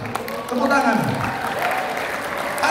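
Continuous applause from a school ceremony audience in a hall, steady and fairly loud, with a voice speaking over the clapping.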